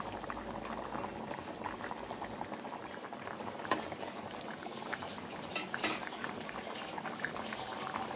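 Potato and eggplant curry bubbles steadily in a pot, a continuous soft boiling with occasional brighter pops and clinks, fairly quiet and close, with no voices.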